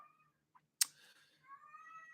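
A quiet cat meows, a soft drawn-out call following a sharp click, faint and close against a near-silent room.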